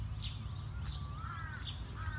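A crow calls three or four times outdoors, harsh caws spaced about a second apart and moderately distant, over a steady low background hum.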